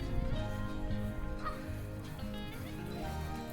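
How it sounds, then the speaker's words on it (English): Geese living along a backyard garden shoreline, giving a near, busy chorus of honking and clucking calls that overlap in quick, irregular bursts. "a colony of geese that like to live on our shoreline"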